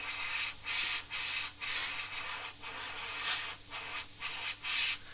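An airbrush blowing plain air with no paint, giving a steady close hiss broken into several short bursts and pauses, with no talking.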